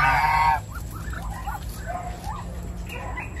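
Farm fowl including geese and a rooster: a loud, close crow opens, followed by a string of honks and clucks over a low background rumble.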